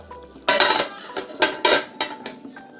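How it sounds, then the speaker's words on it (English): A metal lid is set onto a cooking pot of egusi soup, making a loud clank followed by several sharp clinks and rattles as it settles, with no talking. "you go ahead and cover your pots."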